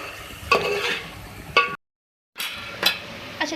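Keema with red chilli and turmeric is stirred and roasted in a pan, giving a soft sizzle broken by a few sharp scraping knocks of a utensil. A short silent gap falls in the middle.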